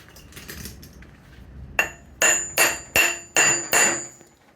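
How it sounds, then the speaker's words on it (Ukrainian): A small hammer taps metal five times in a steady rhythm, each strike sharp and ringing with a bright metallic clink, close by after a quieter start. "Воно молоточком підстукати. Молоточок."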